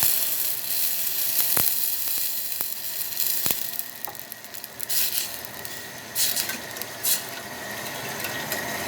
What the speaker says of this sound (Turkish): Evet salçamın suyunu koyuyorum yavaş yavaş